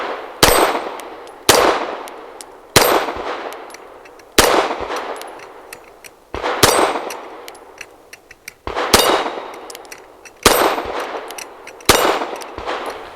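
Eight 9mm Magtech 115-grain rounds fired from a Girsan Witness 2311S pistol with a 5-inch barrel strike steel targets, each loud shot followed by a ringing metallic clang, spaced evenly about a second apart with no talking.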